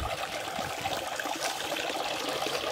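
A garden water feature gives off a steady, continuous trickling and splashing wash of water, close and even throughout, with no talking.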